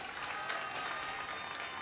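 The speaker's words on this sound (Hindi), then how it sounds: "एक बार ताली बजा दो अपने एमएलए के लिए सारे जने।" A crowd at an Aam Aadmi Party political gathering in Delhi applauds its MLA, a dense, steady burst of clapping that holds evenly for about two seconds.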